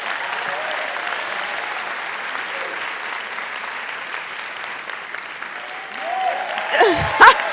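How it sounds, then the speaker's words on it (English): A crowd at a film festival applauds the festival founders in a steady, full round of clapping; a voice and brief louder sounds cut in near the end. "Another round of applause for Stephanie and Floyd Rance."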